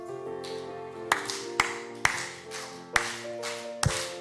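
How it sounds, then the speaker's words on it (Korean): Steady rhythmic hand claps from a church congregation clapping along to a fast hymn, several sharp claps spaced evenly, keeping time with sustained musical tones in the background. "우리 한번 힘있게 박수며 찬송합시다."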